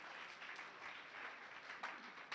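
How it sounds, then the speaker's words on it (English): A school audience at an International Youth Day celebration gives steady applause, a dense, even wash of clapping heard from some distance, fairly faint, with no speech over it. "Can you please clap for them? A big hand clap"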